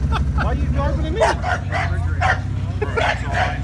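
A dog barks repeatedly in short yips and woofs, with a few whimpers, inside a race shop while people talk and argue over it.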